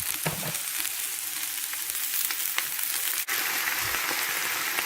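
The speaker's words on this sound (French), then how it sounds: "faut remuer de temps en temps, hein. C'est surtout pas que ça colle." A cabbage-based stuffing mixture frying in a pan over low heat gives a steady, dense sizzle throughout, close up and even, with a faint scrape of stirring partway through.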